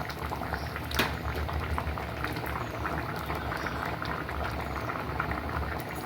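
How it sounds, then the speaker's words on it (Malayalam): Pot of moringa leaves and jackfruit seeds at a rolling boil, dense continuous bubbling and gurgling close by, with one sharper knock near the start, no voices. "അപ്പം നന്നായിട്ട് തിളച്ച് വന്നിട്ടുണ്ട്"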